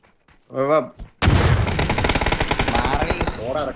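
A short spoken exclamation, then a sudden burst of rapid, continuous gunfire from a video game during a live stream, loud and sustained until another voice returns at the end.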